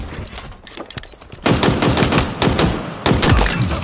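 Loud, close machine gun fire in the video game Halo Infinite: dense rapid bursts that grow heavier and more sustained partway through, with sharp repeated cracks and no speech over them.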